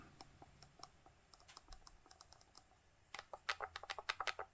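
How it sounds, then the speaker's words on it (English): Crisp clicks from the buttons and D-pad of a Trimui Smart Pro or Anbernic RG40XX H handheld game console, sparse taps at first, then a faster, louder run of presses toward the end. "you've got clicky buttons, and also D-pad is clicky"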